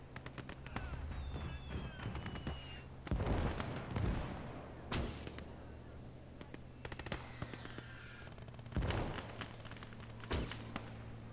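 Mortar fire in the World War II strategy game Gates of Hell: Battle of Moscow, several heavy booming thuds spaced a few seconds apart over a low steady background hum.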